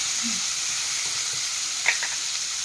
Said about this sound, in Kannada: ಟಮಾಟೆ ಟೊಮೆಟೊ ಚಲೋ ತಂಗಿ ಫ್ರೈ ಮಾಡ್ಕೋಬೇಕಲ್ಲ